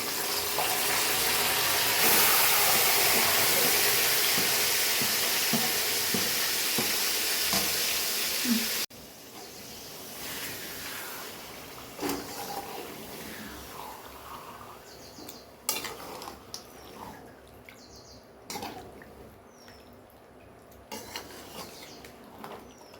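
Chicken pieces sizzle and are stirred in a pot while cooking chicken biryani at home, a loud steady fry for the first few seconds, then quieter scraping and utensil clinks against the pan.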